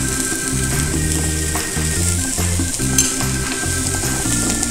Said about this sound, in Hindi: इनको थोड़ा सौते कर लेते हैं।